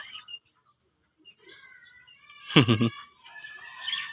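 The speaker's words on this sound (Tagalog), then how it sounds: "May manok oh." A chicken crows once, a short, loud, close call in the middle of an otherwise quiet moment, with faint bird chirps scattered before and after.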